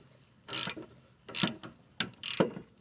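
A ratchet wrench works loose a sway bar link bolt on a 2009 Toyota Highlander, giving four short bursts of clicking ratchet strokes separated by pauses, close and fairly quiet.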